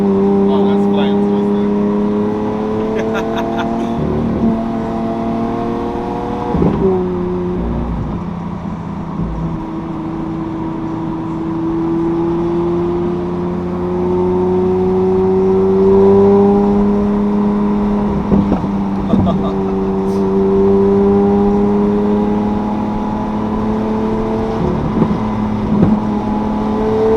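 Lamborghini Aventador with a cat delete and race exhaust, heard from inside as a loud, sustained engine drone rising and falling through revs and gear changes, with occasional sharp shifts, under talk from the occupants.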